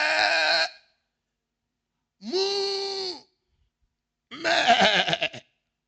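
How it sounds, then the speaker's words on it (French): Three separate sheep bleats, loud and close, each about a second long with a wavering, nasal tone, separated by silent gaps. "c'est quoi ce bêlement que j'entends dans le jardin?"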